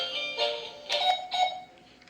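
Short electronic beeps from a remote-control toy robot's volume control, a few bright tonal pulses in quick succession, near and moderately loud.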